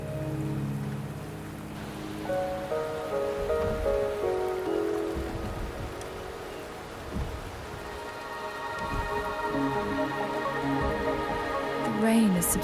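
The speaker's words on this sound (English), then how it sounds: "The rain is subsiding, and the sky will soon clear." Steady rain pours across an outdoor scene in the video game Wuthering Waves, a dense continuous hiss with soft patters, under game music and a voice speaking over it.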